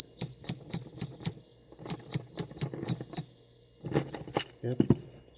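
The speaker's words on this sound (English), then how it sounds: "push it back, and it will ring the bell." ROCKBROS hidden MTB bicycle bell, a small metal bell mounted on a handlebar, rings loud and close in two quick bursts of about five sharp dings each, followed by a few scattered handling knocks.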